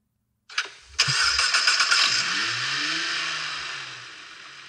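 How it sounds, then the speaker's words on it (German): A simulated inline six-cylinder turbo engine cranks and fires in the DR!FT driving game, with a brief starter whir, then a loud catch that settles into a steady, fading idle. "Und hier in der Mitte können wir den Motor starten."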